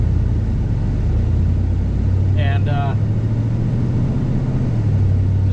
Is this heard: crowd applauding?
no